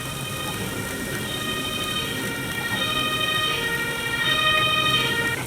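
An ambulance siren in a video game, a steady loud wailing electronic tone with layered pitches that holds throughout, swelling slightly toward the end, with no talking over it.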